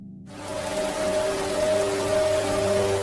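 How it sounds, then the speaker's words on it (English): Heavy rain pouring steadily onto surfaces, a dense continuous hiss that rises in from silence and holds at a constant loud level throughout, with no voices. "At that moment it rained heavily and flooded the cornfields of Triwal"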